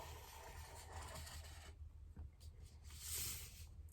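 A pencil traces a circle around a CD laid on a sheet of paper, giving a faint, continuous soft scratching and rubbing that swells briefly near the end.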